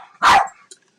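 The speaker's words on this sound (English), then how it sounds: "Don't bark at me." A puppy gives one sharp, close bark followed by a soft faint yip, inside a room where crafting is going on.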